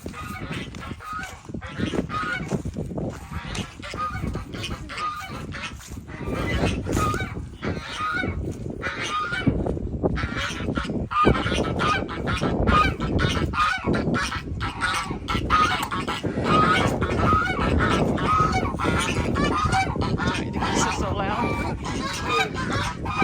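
Geese and other fowl honk and call continuously from nearby, a dense, overlapping clamour of loud cries; a person's voice is heard faintly at times underneath.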